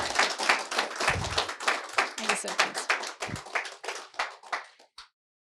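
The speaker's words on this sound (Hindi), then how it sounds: "तो जोरदार तालियों के साथ हम भी स्वागत करते हैं सौरभ सिसोदिया जी का" An audience claps warmly to welcome a guest at a stock market and trading event, brisk dense clapping close by that tapers into scattered claps before stopping, with some voices mixed in.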